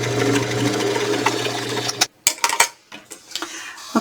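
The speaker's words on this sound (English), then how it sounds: "Now top stitch across here at a 1/8 inch seam allowance." A home sewing machine top stitching a fabric vaccination card holder: a steady mechanical whir for about two seconds, then it stops and is followed by a few light clicks and handling noises.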